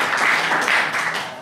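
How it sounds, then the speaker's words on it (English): An audience at a Sydney developer meetup gives a short burst of applause, a dense, steady patter of many hands clapping together for about a second and a half before starting to fade. "Can I hear a round of applause for Ralf?"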